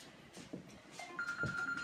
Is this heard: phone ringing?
yes